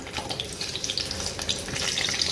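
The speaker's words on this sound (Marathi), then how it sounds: "जिरा टाकला, राई टाकला बघा, आणि इथं मिरच्या." Cumin and mustard seeds crackle and pop in hot oil in a pan while a Marathi fasting-day vegetable dish is being cooked, a busy close sizzle with scattered sharp spits throughout.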